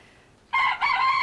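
A silver-spangled Hamburg rooster crows once, loud and near, a bright drawn-out call with a brief dip in the middle.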